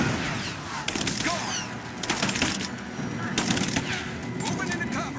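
Gunfire from a firefight in the video game Rise of the Tomb Raider rattles in rapid bursts, with loud sharp volleys over background ambience while voices shout during the exchange.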